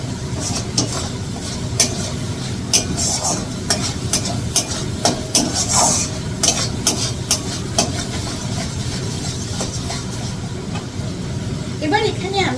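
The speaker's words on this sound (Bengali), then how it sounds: "আবার একটু নাড়াচাড়া করে নেব।" Katla fish curry being stirred in a pan after sugar is added, giving scraping spoon strokes and a steady sizzle through the whole stretch, close and fairly loud.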